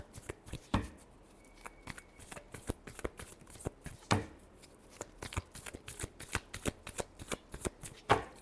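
Tarot cards are shuffled by hand, close and crisp, in repeated sharp riffling bursts and snaps spaced irregularly across the stretch.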